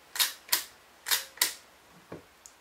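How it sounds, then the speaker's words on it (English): An Ansco Agfa Memo film camera being worked by hand: four sharp mechanical clicks in quick pairs from the shutter and film advance, then two fainter clicks, close up with no talking. "you just simply take a photo and advance the film"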